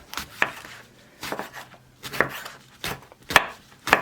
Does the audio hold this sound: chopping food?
yes